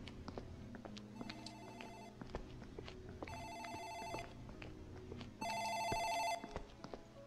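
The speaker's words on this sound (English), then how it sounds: "I think that's the phone in the office rings." An office telephone rings in the horror video game Dark Fracture, three separate electronic ring bursts with quiet gaps between them, faint and a little distant, the last burst loudest.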